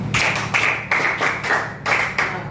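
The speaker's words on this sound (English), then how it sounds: "You can clap for yourself." Students in a classroom clap together in a quick burst of rhythmic, fairly loud claps that come in regular groups across the room, with no talking.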